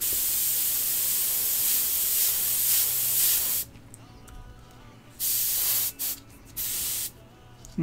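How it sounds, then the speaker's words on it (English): Loud continuous hissing of an airbrush spraying paint on a Tamiya Volvo FH12 1/14 scale RC truck kit for several seconds, then a series of shorter spray bursts separated by quiet pauses. "all we're going to do is do a lot of spraying"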